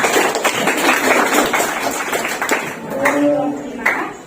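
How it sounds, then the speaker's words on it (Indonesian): Classroom applause for a student group after their presentation, a dense patter of hand claps filling the room with a teacher's voice and faint tonal sounds near the end. "kita kasih tepuk tangan dari kelompok 5."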